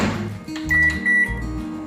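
A microwave oven heats a mini pizza on a microwave-safe plate, giving a low steady hum with two short electronic beeps in the middle, close by and without talk.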